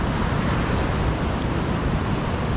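Steady broadband wash of sea waves on a beach in southern Sumatra, Indonesia, a continuous, even surf roar with wind mixed in and no distinct breaking crashes.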